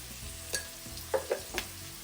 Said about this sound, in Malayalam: ഇത് ഒന്ന് വഴറ്റാം.